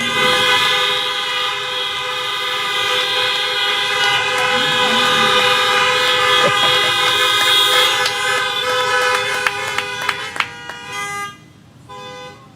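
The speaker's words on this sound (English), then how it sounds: "Please honk for the faculty and the staff of Cape Henry Collegiate." Car horns blare together in a long sustained chorus at an outdoor 2020 Cape Henry Collegiate commencement, honking to honor faculty and staff, then break into a few short staccato toots before fading out.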